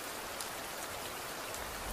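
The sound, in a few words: light rain falling outside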